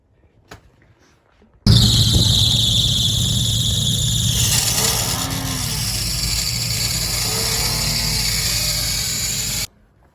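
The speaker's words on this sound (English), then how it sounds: "or your engine will sound like this" A combustion engine running on the wrong fuel starts abruptly after a short quiet stretch, holding a loud, harsh, steady drone with a high whine early on, then running on unevenly until it cuts off near the end.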